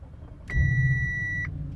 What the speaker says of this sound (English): And there it is, engine is running.